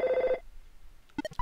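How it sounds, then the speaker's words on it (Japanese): A telephone rings in the video game MOTHER 2, one short electronic ring burst at the start, then a brief run of game blips after a pause. "外に出たら電話来ました。"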